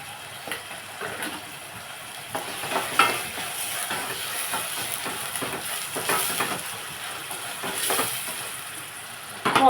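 Liver, egg and kantola curry frying in a pan, with a constant sizzle and steam hiss broken by the irregular scrapes and clinks of a spoon stirring.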